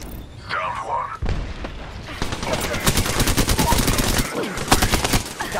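Gunfire in the Apex Legends game crackles in rapid bursts and heavy booms, loud and close, while a voice calls out over the shooting.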